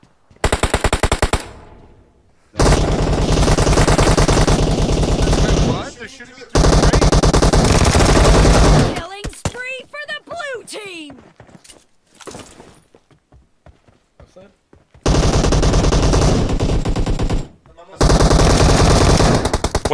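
M249 machine gun firing in a video game, loud sustained bursts with abrupt stops and gaps, interrupted by a short reload-like clatter and brief bits of voice.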